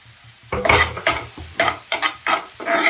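Paneer curry with green garlic is sautéed in a pan, with a steady sizzle of frying under repeated scraping stirs in short, rhythmic bursts, close and fairly loud.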